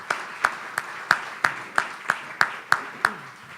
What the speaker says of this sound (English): how about a round of applause for Funky Buddha?